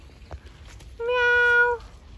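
A cat outdoors in a natural spot in Kyoto, Japan gives one clear, drawn-out meow lasting under a second, close and distinct against a quiet background.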